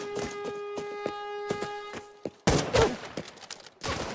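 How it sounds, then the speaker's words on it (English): Sniper and rifle gunfire in Arena Breakout Infinite: a sharp, close shot followed by a string of spaced, rhythmic cracks, then a burst of louder, denser gunfire and impacts. "I think that sniper just shot me in the back."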